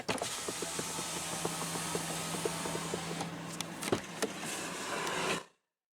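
Electric power window on a 2018 Volkswagen Golf GTI SE sliding down for about five seconds, a steady close motor whir with a few small clicks and thumps near the end, then silence.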